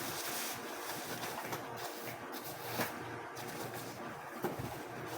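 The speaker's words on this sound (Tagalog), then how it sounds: "Lakas ang hangin." Gusty wind buffets the microphone in a continuous roar, with occasional stronger gusts and no voices.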